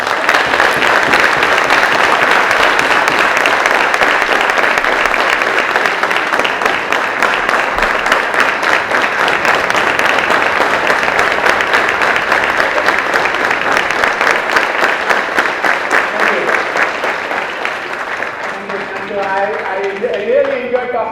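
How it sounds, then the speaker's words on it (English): Sustained audience applause at a conference lecture on food and agri-waste valorization, loud and dense throughout the whole stretch, tapering slightly near the end. "give him a big hand of applause."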